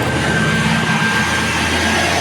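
A heavily loaded truck on a Baguio highway, its engine a loud, steady roar with a deep low rumble and broad hiss, close by and unbroken, no voices.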